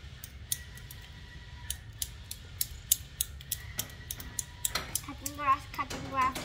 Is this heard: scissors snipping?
yes